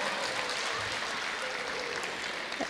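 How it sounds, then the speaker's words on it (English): Quiet applause from an audience at a community association introduction, an even wash of clapping heard at a distance, soft and unbroken with no talk. "Give them a big round of applause."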